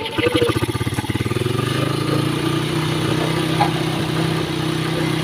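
A battery-operated motorcycle running without its battery, its small engine chugging in a steady, even idle close by, with a brief rapid pulse at the start before settling into a constant drone.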